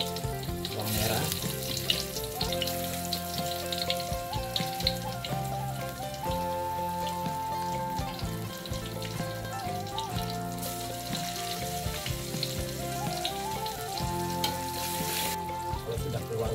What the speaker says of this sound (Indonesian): Pertama kita tumis dulu bawang merah.